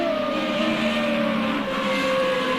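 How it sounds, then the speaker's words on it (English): A steady, droning race car engine hum from a sim racing video game, Formula Renault qualifiers, holds at a constant pitch throughout, loud and continuous, with no talking over it. "Maybe hopefully the engine noises in the background now will drown the echo"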